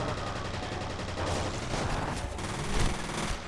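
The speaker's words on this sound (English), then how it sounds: "This SMG is way too effective for its own good." Rapid submachine-gun fire from F.E.A.R. Perseus Mandate crackles in a dense continuous burst of overlapping shots, loud and sustained throughout the short stretch of gameplay.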